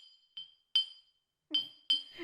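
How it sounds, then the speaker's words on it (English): Drinking glasses, one filled with water and one empty, are tapped in turn: four bright, ringing clinks with short decays, spaced unevenly and heard alone at close range. "make a high sound when I tap against the glass"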